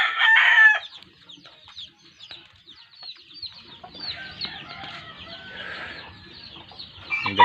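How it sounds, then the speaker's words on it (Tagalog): Chickens cluck and squawk in bursts, with a loud call at the start and again at the end, nearby and without speech. "Ayan naman yung ating mga alagang manok."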